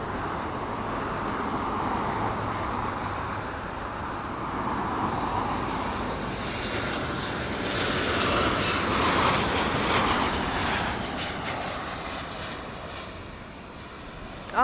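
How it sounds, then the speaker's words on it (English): A Southwest jet arriving from Chicago Midway lands at LAX, its engines a broad, loud roar that swells and fades steadily over several seconds as it floats above the runway and touches down, heard from the airport. "floating over the runway, nice and gently touching down"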